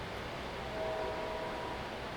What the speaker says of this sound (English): there's a train out there